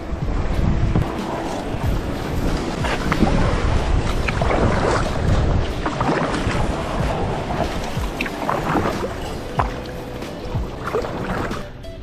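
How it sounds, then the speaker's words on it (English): A kayak is dragged over a beaver dam in Michigan wilderness, giving a dense, continuous scraping and rustling roar with thumps and wind buffeting, loud and close throughout. "I'm pulling my kayak over the beaver dam"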